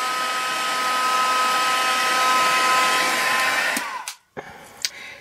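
A heat tool blows a steady, loud whirring roar while melting embossing powder on a handmade card, holding for about four seconds before cutting off, followed by a brief tap and quieter rustling.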